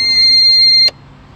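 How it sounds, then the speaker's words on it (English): An alarm on a PID controller used while smelting wheel weights sounds a loud, steady high-pitched electronic tone for under a second, then cuts off abruptly. "That alarm's just about ready to go off."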